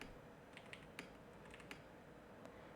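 Faint, irregular key taps on a computer keyboard during a Typing Master drill, a handful of light clicks spread across a quiet background with no talking.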